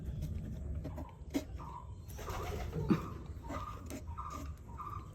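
Pigeons sit in a damp wooden nest box bedded with wood shavings. Close, soft cooing comes in short bursts, with light taps and rustles between them.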